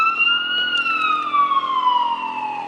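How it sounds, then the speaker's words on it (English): An ambulance siren wailing loud and close as it passes, a steady high tone that slowly drops in pitch as the vehicle moves away. "There's an ambulance."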